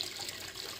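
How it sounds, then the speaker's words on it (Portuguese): Water pours steadily into a drum barrel on a pig farm, a continuous close splashing rush with no voices. "Eu estou enchendo aqui o tambor, vou mostrar para vocês."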